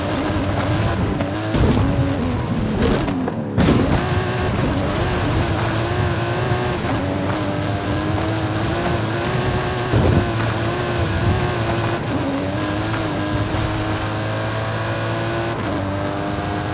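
Custom-engined Mike Steel Special stunt car in Forza Horizon 5 being driven hard uphill, its engine revving loudly and continuously with rising and falling pitch and brief gear shifts.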